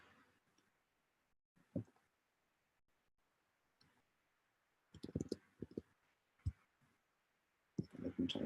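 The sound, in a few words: computer keyboard typing clicks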